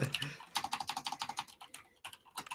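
Rapid clicks of keys on a computer keyboard during a GTFO game session, a quick uneven burst of close, crisp taps with a short pause, then a few more strokes.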